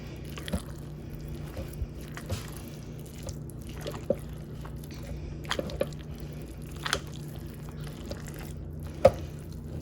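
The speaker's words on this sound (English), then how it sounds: "so let me stir this really good" Thick Reuben cheese dip in a crock pot is stirred with faint, wet squishing and scattered soft clicks of a spoon against the pot, quiet and close.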